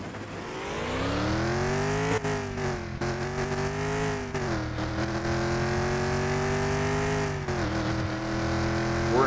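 A Ford GT40 V8 engine in the Car Mechanic Simulator 2021 game revs loudly and continuously, its rising and falling harmonic tones steady throughout with brief dips between gear shifts.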